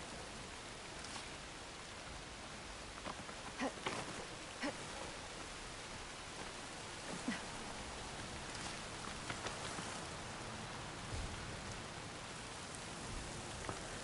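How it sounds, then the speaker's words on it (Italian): Steady rain pours down across an outdoor landscape in the Horizon Forbidden West video game, a soft continuous hiss with scattered louder droplet taps, alone without speech. "Questa pioggia copre tutti i rumori."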